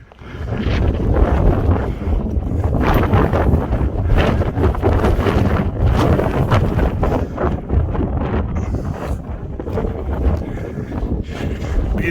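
Strong, steady wind blows across an open mountain meadow, roaring and buffeting loudly and continuously throughout without a break.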